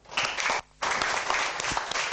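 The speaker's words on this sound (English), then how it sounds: "Doesn't the universal energy need a good clap?" An audience at a tai chi session claps together in a steady burst, a brief pause cutting in before the dense clapping resumes and carries on to the end.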